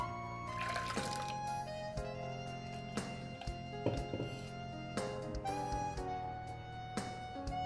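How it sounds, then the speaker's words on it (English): Water, almost half a glass, pours steadily into a vessel of strained rasam with a gentle trickling sound, and a few light clinks sit over a continuous hum. "Now I'll add some water, half a glass almost."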